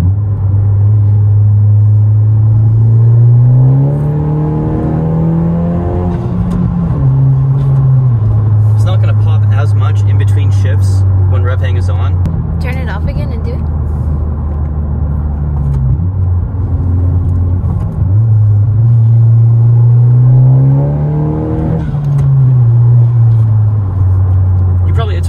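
A 10th-generation Honda Civic fitted with a MAPerformance downpipe revs repeatedly, heard from inside the car with intake and exhaust drone, engine pitch climbing and holding then dropping back to a steady idle rumble.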